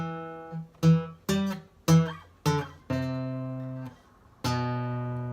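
Beginner electric guitar riff walking down the fifth string, a few clean plucked notes with short decays followed by a longer sustained note and a final ringing note, close and alone.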